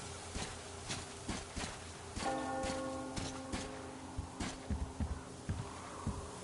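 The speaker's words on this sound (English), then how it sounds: "Do you hear that bell?" A bell rings in the Metro Exodus video game, sounding as repeated, resonant, fairly distant strikes with a lingering hum, set among low thuds and ambient game noise.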